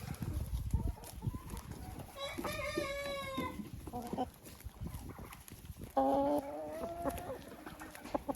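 Laying hens cluck and murmur nearby in a coop, with a few longer drawn-out calls, over rustling and faint background noise.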